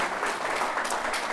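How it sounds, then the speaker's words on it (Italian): An audience at a talk welcomes a criminologist and a science communicator with applause, a continuous wash of many hands clapping evenly throughout, fairly close and without voices on top. "li accogliamo con un applauso"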